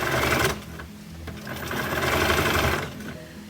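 Sewing machine stitching a seam on a drawstring bag lining and reverse sewing to lock it, close and loud, with bursts of rapid whirring that pause briefly and then resume.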